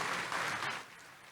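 A church congregation claps in a dense burst of applause that holds for under a second and then thins out and fades.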